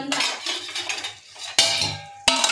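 A lid is set on a cooking pot of drumstick, potato and pumpkin vegetables, giving sharp metallic clanks and clinks. Two distinct hits come amid scraping kitchen-utensil clatter, close and fairly loud.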